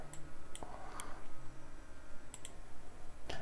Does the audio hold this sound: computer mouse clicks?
yes